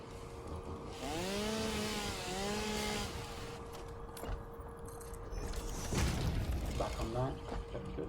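A chainsaw in the video game Satisfactory buzzes and cuts, a harsh sustained whine with rising and falling pitch, mixed with other game effects and some talking.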